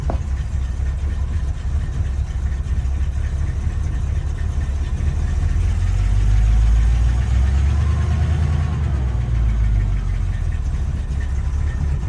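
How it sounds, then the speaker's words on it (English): A 1969 Buick Skylark project car with an engine idling slowly, a steady low rumbling drone throughout that swells slightly near the middle, close and continuous with no talk. "I think it's idling a little slow."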